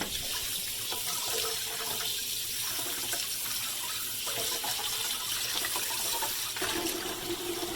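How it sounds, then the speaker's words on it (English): A Preethi mixer grinder lid is rinsed under a running kitchen tap, giving a steady, close splashing stream of water that continues unbroken, with no talking. "same thing with the lid. Just going to rinse it off."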